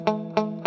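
Three quick plucked guitar notes, evenly spaced, each with a slightly rattly, buzzy attack from a string not pressed down firmly.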